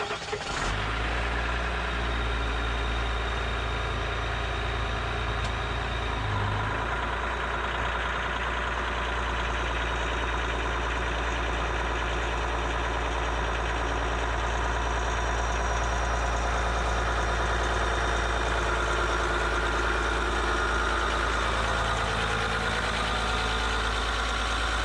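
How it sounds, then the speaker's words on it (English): A 2020 Ram Rebel EcoDiesel pickup truck cranks and fires on a cold start, then settles into a steady, close diesel idle with a deep low rumble and a constant clattering drone throughout. "let's go ahead and give it a cold startup."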